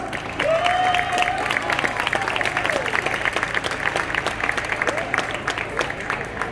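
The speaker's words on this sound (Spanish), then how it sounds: "un fuerte aplauso para todos" Applause for everyone at a Silk Road day event in Valencia for people with disabilities, lively close clapping from a crowd with scattered cheers and whistles, continuing steadily.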